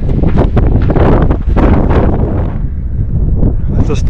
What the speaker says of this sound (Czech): Tady fouká.